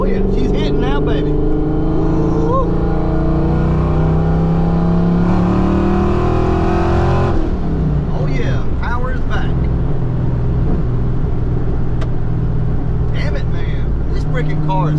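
Supercharged Ford Foxbody Mustang pulling hard under acceleration, loud engine note climbing in pitch through the gears with a brief shift break, heard from inside the car while a voice talks over it.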